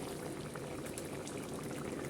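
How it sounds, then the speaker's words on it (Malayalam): Onion curry bubbling in a pot, a soft continuous simmer with faint popping bubbles, quiet and steady throughout with no voices. "നന്നായിട്ട് തിളച്ചിട്ടുണ്ട് എണ്ണയൊക്കെ തെളിഞ്ഞ് വരുന്നുണ്ട്"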